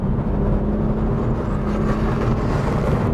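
A BMW 1M Coupe's engine hums steadily under hard acceleration, a close, continuous drone from inside the car with no voices.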